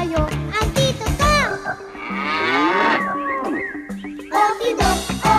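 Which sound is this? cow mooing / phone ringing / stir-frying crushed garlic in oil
cow mooing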